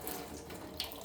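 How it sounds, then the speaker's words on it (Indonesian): Tap water runs steadily onto hands during a hand-washing routine, the faucet opened with an elbow; a continuous close splashing hiss with no one talking. "membuka keran air menggunakan siku yang membasahi kedua tangan"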